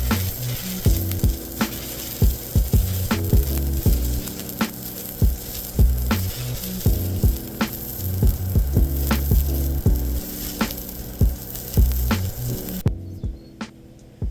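Stick welding of thin metal with a rod at about 35 amps gives a loud, continuous crackling sizzle with regular sharp pops and a steady hum, then cuts off near the end.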